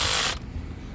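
A ratchet tightening a starter bolt on a 2003 Honda Accord gives a short, loud burst of rapid clicking, then drops to a quieter low rumble.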